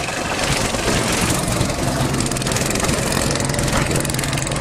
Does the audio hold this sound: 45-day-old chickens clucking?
no